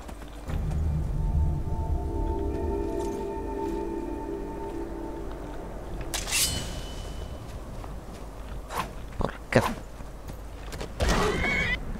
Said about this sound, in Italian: Grande cavallo, mi dai una mano?